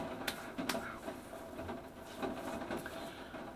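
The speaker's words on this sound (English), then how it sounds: "that is some loud rain." Heavy rain from a summer storm patters steadily, with scattered sharper drips and taps close by, fairly faint overall and continuous without any talk.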